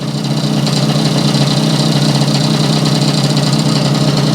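A Yamaha 100 Trailmaster motorcycle engine runs steadily up close, a loud, even idle with a dense mechanical rattle and no pauses throughout.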